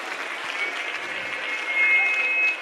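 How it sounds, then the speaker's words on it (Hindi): Crowd applause at a large Hindu religious convention, a sustained wash of many hands clapping that swells slightly louder toward the end, with some faint voice-like sound mixed in. "उनका भी स्वागत करेंगे एक बार जोरदार तालियों से"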